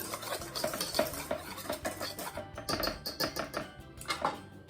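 Squash muffin batter is stirred in a bowl, a steady run of soft scraping and clicking strokes, close and continuous with no talk.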